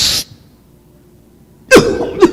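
A person imitates the harsh cough of someone trying to smoke: one loud burst, a pause of near silence, then two more explosive coughs close to the listener.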